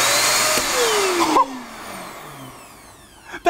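An APOSEN ST600 600W corded stick vacuum cleaner switches on with a loud whine that sweeps downward in pitch, then runs on more quietly with a falling motor tone and a short clatter at the end.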